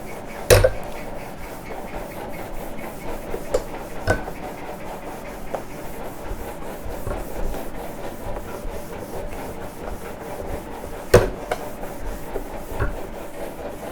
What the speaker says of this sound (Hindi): इसको रब कर देता हूँ